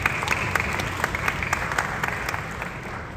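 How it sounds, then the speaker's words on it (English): Audience applause after a middle school honors orchestra concert in Collier County, Florida, a steady wash of many hands clapping throughout, moderately loud and unbroken, with no voices over it. "let's give your parents an orchestra round of applause"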